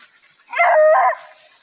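A hunting dog on a dry night during an armadillo hunt gives a single short, howling yelp lasting about half a second. It sounds moderately close, against a quiet background.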